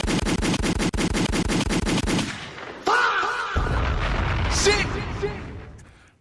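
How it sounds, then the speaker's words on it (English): Rapid bursts of gunfire crackle in a steady rhythm, then give way to loud, echoing booms and a rumbling tail that fades out. "Let off the gunshots."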